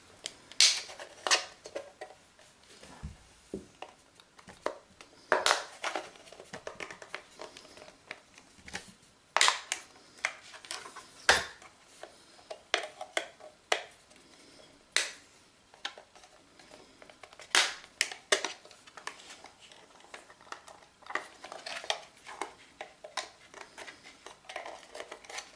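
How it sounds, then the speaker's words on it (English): A knife works along the edge of a TKDMR TD2B LED strip tester's plastic back, prying it off in a long series of sharp close clicks, snaps and scrapes spaced irregularly throughout. "The back snaps off. You can go along the edge with the knife."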